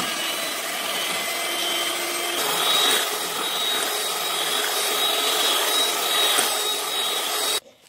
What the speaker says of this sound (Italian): Lavorate il tutto con le fruste elettriche.